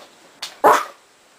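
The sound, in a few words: person imitating a dog's bark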